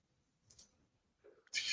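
Computer mouse clicks closing a pop-up ad, a few quiet, sharp taps close by in an otherwise hushed room.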